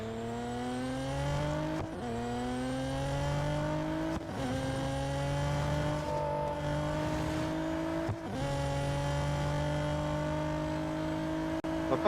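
A race car engine in the video game Real Racing 3 revs hard, climbing in pitch through each gear and dropping sharply at shifts, a loud sustained whine that repeats in steady surges with no talk.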